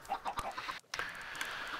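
Chickens in Minecraft cluck softly in a short, quick series of gentle bird calls. A brief gap breaks the clucking before the calls pick up again.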